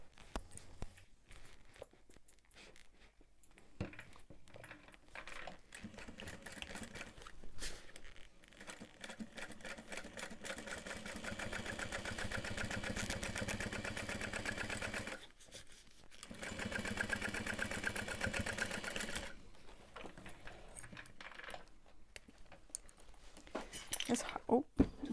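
Domestic sewing machine top stitching through a backpack seam, a sustained close mechanical whir in long runs with short pauses between them, and someone talking quietly over parts of it.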